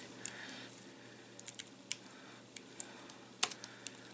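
Computer keyboard typing, sparse light clicks and taps in a quiet room with an uneven rhythm and one sharper keystroke, fairly close.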